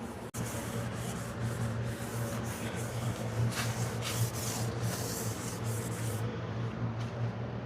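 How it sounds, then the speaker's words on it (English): Steady close rubbing and wiping strokes wiping a metal car subframe down with acetone, a continuous scrubbing texture with no talking. "I'm gonna wipe this whole thing down just to remove any grease or any residue"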